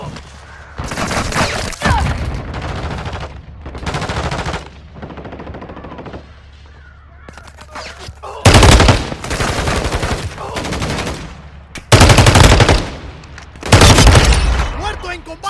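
Loud machine gun fire in Warzone Mobile, with long sustained bursts broken by short pauses and heavy blasts, close and dominant, while a voice speaks during quieter moments.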